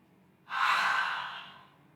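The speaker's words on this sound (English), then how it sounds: "Nice deep breath." A deep, audible breath taken during a yoga pose, one long smooth breathy exhale that swells quickly and then fades gradually, close and clear against a quiet room.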